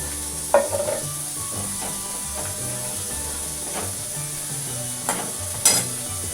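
Eggplant masala bhaji frying in a pan hisses in a steady, loud sizzle, broken by a few scraping strokes of a spoon as it is stirred, with no talking.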